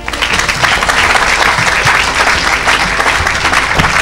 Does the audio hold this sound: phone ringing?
no